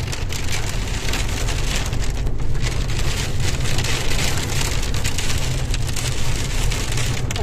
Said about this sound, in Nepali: हल्का असिना पानी